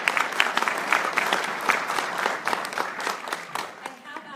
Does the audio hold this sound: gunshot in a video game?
no